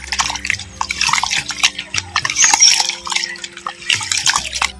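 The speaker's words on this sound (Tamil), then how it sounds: "நம்ம சேர்த்த பச்சரிசி உளுந்து துவரம் பருப்பு வெந்தயத்தை நல்லா ஒன்றுக்கு ரெண்டு மூணு முறை நல்லா அலசிக்கிறேன்" Raw rice, urad dal, toor dal and fenugreek seeds are swished and rinsed by hand in a vessel of water, giving close, loud splashes and trickles in irregular bursts with short quieter gaps between them.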